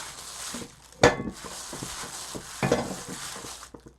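Homemade dumpling filling being stirred and worked in a bowl, a continuous wet mashing and squelching with two sharper clinks of utensil against the bowl, close and without talk.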